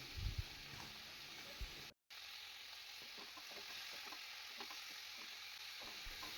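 Ridge gourd and potato pieces frying in a pan for a rohu fish curry, with a steady soft sizzle and scattered scraping stirs, briefly cut by a short dropout near the two-second mark; no talking.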